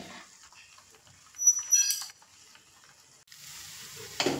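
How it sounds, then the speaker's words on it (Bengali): Potatoes sautéing with spices in a pan for shrimp chops: soft, quiet stirring and light sizzle, with a couple of brighter clinks and scrapes partway through and a louder scrape at the end. "দেখুন, মশলার মধ্যে আলু দিয়ে আমি মিশিয়ে নিয়েছি।"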